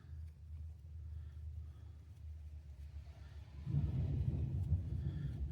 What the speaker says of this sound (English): Oh, there's that thunder again.